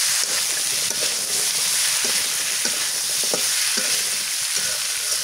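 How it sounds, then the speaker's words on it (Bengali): Potatoes stir-frying in a pan with pounded dried fish, onion, garlic and cumin paste, a continuous loud sizzle with occasional scraping stirs of a spoon, no voices. "এবার আলু দিয়ে দিই"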